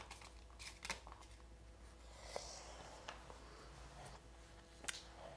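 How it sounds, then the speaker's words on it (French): Tarot cards being gathered up and shuffled by hand, giving soft scattered card slaps, rustles and brushing sounds at close range, quiet and intermittent, with no talking. "je vais ramasser les cartes"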